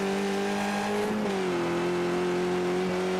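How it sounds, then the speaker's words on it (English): A race car rattles over the bumpy Detroit Belle Isle street circuit in the iRacing sim. A steady engine drone runs throughout and dips in pitch briefly around the middle, with no talk over it. "Car is definitely experiencing the bumps here at Detroit. We can hear it just clattering against the pavement"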